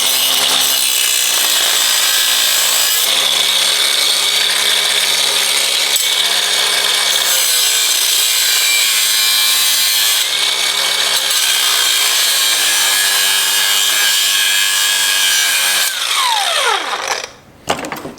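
A power saw cuts slits into a Subaru STI transmission case, grinding loudly and continuously for a long stretch with slight changes in pitch before spinning down at the end.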